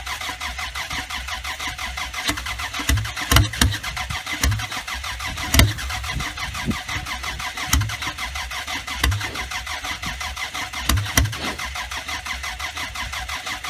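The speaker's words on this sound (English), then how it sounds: "Yeah, long cold start video." A car engine cold starting on a winter day: the starter cranks, the engine catches and settles into a steady idle with several sharp revs along the way, loud and close with no talking.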